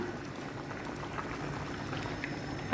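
A pot of fish curry bubbles on the stove, a continuous soft simmering and popping close by with no talk over it.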